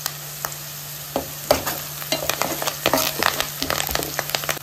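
Onions fry in oil with turmeric and curry leaves, a steady sizzle broken by frequent clinks and scrapes of stirring in the pan.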